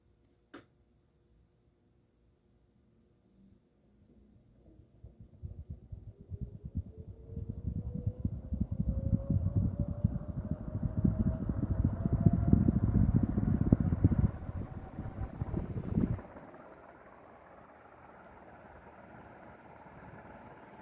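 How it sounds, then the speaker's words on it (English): A small industrial ceiling fan in a garage spins up from off to high speed: a faint motor whine rises steadily in pitch over a growing whoosh of air, holds at full speed for several seconds, then the airflow drops away abruptly. "That thing has a little whine to the motor"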